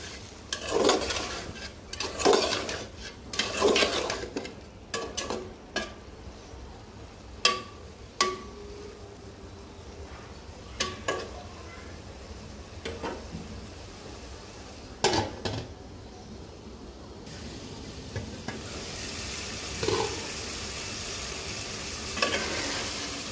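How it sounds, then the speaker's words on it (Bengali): A spoon stirs a rui fish curry with eggplant, potato and bori in a pot after the lid comes off, making intermittent clanks and scrapes against the metal over a low sizzle. "ঢাকনাটা উঠিয়ে আবারও নেড়ে চেড়ে দিব"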